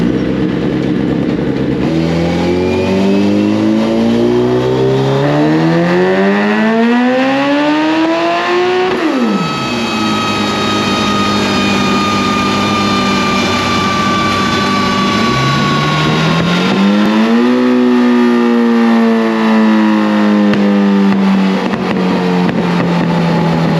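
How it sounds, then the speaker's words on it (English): A 2005 Suzuki Hayabusa motorcycle running on E85 and nitrous screams through a dyno pull, its engine note climbing steadily, dropping abruptly, then rising again in a second sweep, loud and close with no talking. "we're gonna let y'all see the nitrous pull here"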